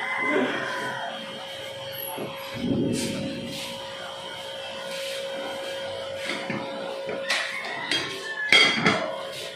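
A metal lid goes back onto a cooking pot of adobong sitaw, giving scattered clanks and rattles. The loudest clatter comes near the end, and a steady hum and some kitchen movement sit underneath.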